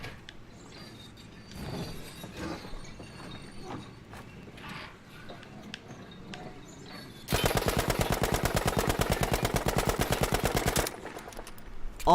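A Sten submachine gun in Battlefield V firing on a shooting range: a loud, rapid continuous burst of evenly spaced shots lasting several seconds, preceded by quieter mechanical clicks and handling noises.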